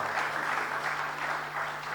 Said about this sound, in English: Can you please appreciate her with a round of applause?